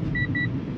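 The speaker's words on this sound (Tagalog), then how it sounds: "nag-a-alarm ang aking sasakyan na madulas ang daan" A car's dashboard alert chimes twice in quick succession, two short clear beeps warning of a slippery snowy road, heard over the low steady rumble of the moving car.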